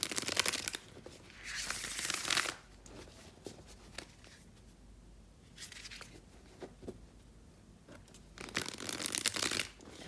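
Tarot card shuffling in three bursts: a long riffle near the start, brief flicks in the middle, and another riffle near the end, close and crisp.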